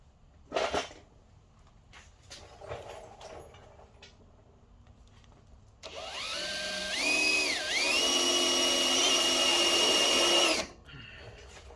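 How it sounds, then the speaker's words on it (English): A power drill whines steadily for several seconds drilling out a stripped skid plate nut on a 2021 Jeep Gladiator, its pitch dipping briefly under load before rising again, following a few quiet knocks and handling sounds. "So I'm going to try to drill this out."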